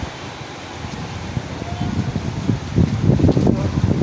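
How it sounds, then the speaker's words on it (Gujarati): Steady roar of heavy rain lashed by strong wind gusts, the noise swelling louder and more turbulent toward the end. "ખૂબ જ પવન સાથે વરસાદ પડી રહ્યો છે"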